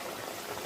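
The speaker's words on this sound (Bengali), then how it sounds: "গরম জল দিয়ে দেবো।" Hot water hits a cooking pan of fish dopiaza, a brief, soft, steady hiss and bubbling sizzle with no other sound.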